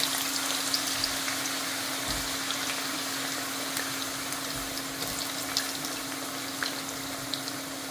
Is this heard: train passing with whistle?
no